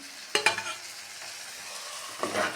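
Drumstick, brinjal and potato being stirred in a pan of frying onions for a Trichy-style kara kuzhambu, giving low sizzling with two sharper scrapes of the spoon, one near the start and one near the end.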